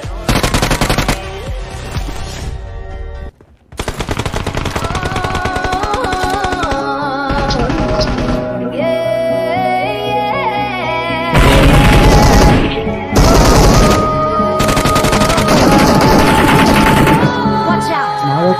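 Rapid automatic gunfire in the battle-royale game BGMI, with loud bursts and sustained volleys broken by a brief pause, while a player's voice occasionally comes through.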